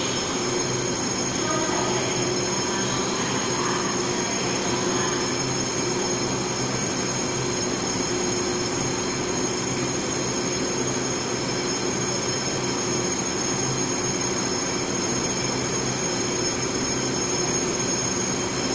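The EMU868+EMU867 Smile electric multiple unit commuter train runs on the Pingtung line toward Ershui, making a loud continuous rumble with wheel noise and high squealing tones throughout.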